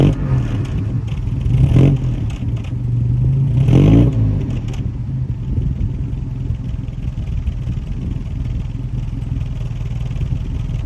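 Riley One-Point-Five 1950s saloon with a B-series engine, idling from behind the car near the exhaust: a steady mid-pitched thrum with two short blips of revving early on, then settling back to an even idle.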